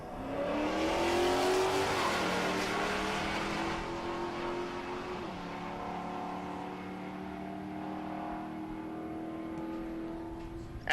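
Drag racing cars, including a Camaro, launching at the Great Bend, Kansas dragstrip: loud engine revving rising in pitch through gear changes, with a brief tire squeal, then a sustained engine drone fading into the distance, no talk.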